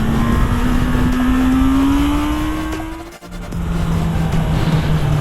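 A Kawasaki Z800 motorcycle on its stock exhaust roars loud and close, the engine note climbing steadily under hard acceleration, briefly dipping at a gear change, then pulling again with an aggressive growl.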